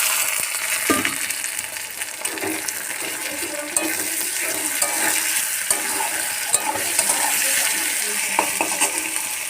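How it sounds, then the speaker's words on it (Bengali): Garlic and chopped tomato added to fried onion in a kadai for chicken kosha, a continuous loud sizzle with repeated scraping stirs against the pan, close and without speech. "রসুন আর টমেটো কুচানোগুলো দিয়ে দেবো।"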